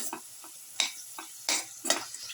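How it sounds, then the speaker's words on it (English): Winter melon sautés in a pan with chili powder. About six rhythmic scraping spatula strokes ride over a soft, constant sizzle, close and moderately loud. "Keep on sauteing and let it fry."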